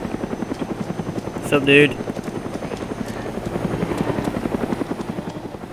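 A helicopter in the survival video game DayZ thrums steadily with a rhythmic rotor chop throughout, while players talk briefly over it in voice chat.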